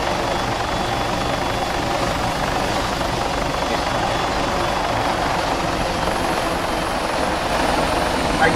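A military helicopter lands in the Arma 3 video game, its rotor and engine roar steady, loud and continuous throughout.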